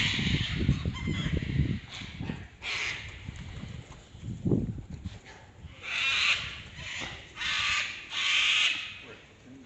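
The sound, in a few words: white cockatoos calling in Katoomba main street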